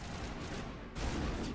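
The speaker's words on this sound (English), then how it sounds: "Who are we shooting at?" Gunfire in a game skirmish, a dense, continuous rumble of distant shots and booms that swells louder in the second half of the brief burst.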